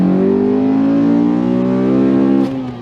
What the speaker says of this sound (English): Driving the K24 Frankenstein Accord Euro R.